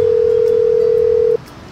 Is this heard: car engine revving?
no